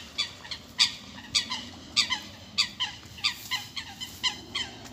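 Ducks in a town park in Ilford quack noisily, about ten sharp calls in a steady, rhythmic run over quiet outdoor background, fairly close and clear with no talking.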